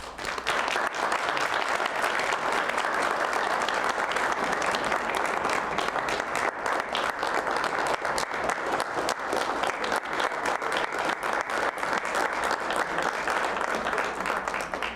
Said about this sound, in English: Everyone join me in a final round of applause for our winners.